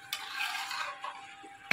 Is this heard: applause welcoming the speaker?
no